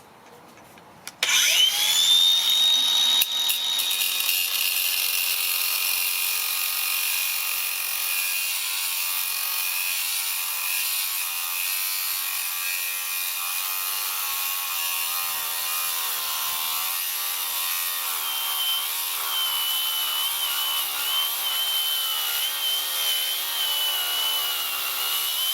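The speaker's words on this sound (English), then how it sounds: "I'm just going to try and cut it down into a nice little square or something using the diamond grinder" Diamond grinder cutting a piece of jasper into a cube, a high steady whine with a grinding edge that starts after a brief knock and holds loud and close for over twenty seconds.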